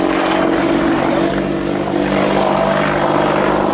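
An aircraft at the Royal International Air Tattoo 2017 air show passes with a steady, loud, droning engine roar that fills the whole clip, with no talk over it.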